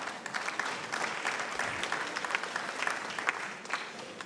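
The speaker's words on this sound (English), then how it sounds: "you can continue clapping hands for them" A municipal gathering audience in Emalahleni claps hands, a moderately distant, even patter of many hands sustained without a break and no voices on top.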